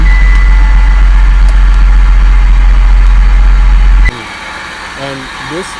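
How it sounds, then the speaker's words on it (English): A car with an automatic transmission idles close by, a steady low rumbling hum that cuts off abruptly partway through, leaving quieter background with a few faint chirping tones. "started the engine"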